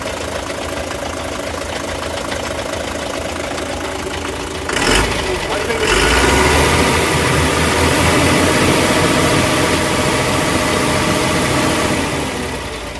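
An Eicher tipper truck's diesel engine idles steadily and close by, with a brief louder burst of revving partway through before it settles back into a rumbling idle.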